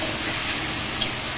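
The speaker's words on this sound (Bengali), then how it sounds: "হালকা একটু নেড়ে দেবো তেলে," Food being stirred and lightly fried in hot oil gives a soft, continuous sizzle, with one small clink partway through.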